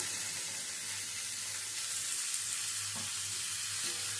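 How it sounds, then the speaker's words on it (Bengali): Potatoes and drumstick pieces fry in a pan with a constant close sizzle, punctuated by a few soft knocks from stirring. "আলু আর সজনে ডাটাটা দিয়ে নেড়ে ছেড়ে নেব সমস্ত সবজিটা হালকা ভেজে নিয়ে"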